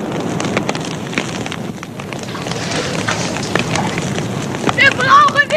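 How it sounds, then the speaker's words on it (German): A staged fire crackles and roars steadily as a radio-play effect, with rushing noise throughout and sharper crackles and pops building near the end. "Mensch, es brennt!"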